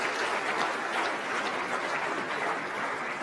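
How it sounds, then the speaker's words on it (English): Dense, even applause fills a hall at a university innovation talk as a speaker comes onto the stage, holding steady and fairly loud from start to finish. "let's give a big round of applause for Shruti coming up on stage."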